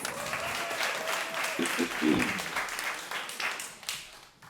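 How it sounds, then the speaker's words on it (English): An audience claps and cheers in a steady burst of applause that fades slightly toward the end. "Give yourselves a round of applause."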